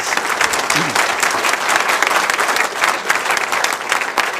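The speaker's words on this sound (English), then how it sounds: "Let's give all the 6A's a round of applause." Steady audience applause at a Kangen Water demonstration seminar, dense and continuous from start to finish, with a brief voice rising near the start.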